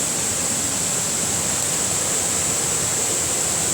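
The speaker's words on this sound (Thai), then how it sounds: "วันนี้เราก็มาพาเราดูน้ำตกเล็กๆก่อนนะครับ" A small waterfall on the Mae Kong river gives a steady, full-bodied rush of falling water, loud and unbroken throughout, with no voices over it.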